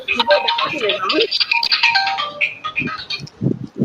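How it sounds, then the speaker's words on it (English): A mobile phone rings during an indoor lecture on animal behavior, its repeated electronic tone sounding under a voice that keeps talking. "Somebody's phone is ringing."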